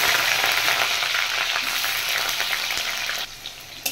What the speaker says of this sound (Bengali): কড়াই বসিয়ে দিয়েছি, তেল গরম হয়ে গেছে। এবার আমি আলু ভেজে নেব।